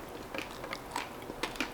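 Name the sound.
crunchy bite of a sprinkle-covered treat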